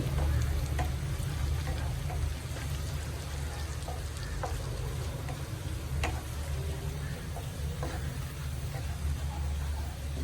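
Chili powder fries in hot oil for mango pickle, with a steady, close sizzle that continues throughout, broken by a few faint clicks.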